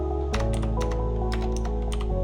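Keys on a computer keyboard are tapped quickly to enter a code, producing a brisk run of close clicks over a steady low background hum.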